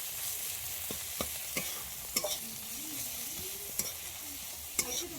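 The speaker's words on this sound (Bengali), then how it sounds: "দিয়ে সবগুলোকে একসাথে মিক্স করে নেব।" A spoon stirs tomato with turmeric, chili powder and salt in a frying pan, giving a low steady sizzle broken by several sharp scraping knocks against the pan.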